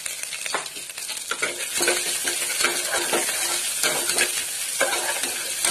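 Spices and turmeric frying in a pan for yellow chicken rice give a continuous close sizzle, with repeated spatula scrapes and stirs against the pan and no voices.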